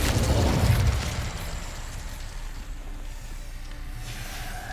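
A fire spell cast in the video game Hogwarts Legacy erupts in a loud whooshing burst of flame that fades over a second into a low, steady rumbling background.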